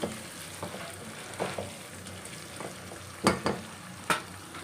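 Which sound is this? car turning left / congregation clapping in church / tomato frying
tomato frying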